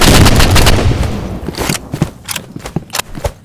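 Loud video-game gunfire from a burst rifle and handgun: a dense opening volley that thins into separate sharp shots and short bursts, close and punchy, no talking.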